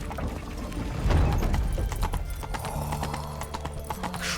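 Hooves of Roach, Geralt's horse in the video game The Witcher 3, clip-clopping in a steady walking rhythm, close and clear, with a heavier thud partway through and faint background ambience.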